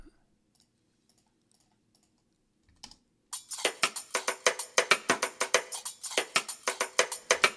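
Crisp, dry side-stick clicks play in a quick syncopated pattern, about twenty sharp hits in a row after a short near-silent gap in a music track.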